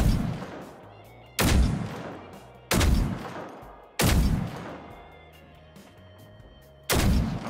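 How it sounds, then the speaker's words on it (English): Heavy .50 caliber rounds fired at a harvester robot in the video game Generation Zero: four loud, booming single shots spaced about a second or more apart, each with a long decaying rumble, no talking over them. "I'm gonna get in a spot and start dropping some 50 cal into this harvester"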